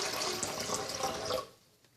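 Purified water pours into a Vitamix blender container as the first step of a tomato soup, a bright splashing stream that cuts off after about a second and a half, leaving a faint drip.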